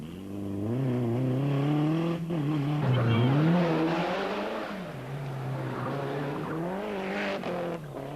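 Rally car at speed on the 1994 Rajd Elmot, engine note rising and falling through gear changes with loud close revving, passing by with a brief tyre scrub.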